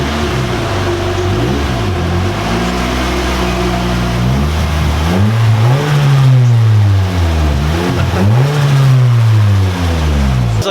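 A turbocharged Nissan 240SX accelerates hard through several gears, its engine note rising and dropping with each shift, loud and close from inside the car, with no talk.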